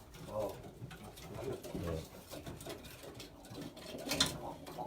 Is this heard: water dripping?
no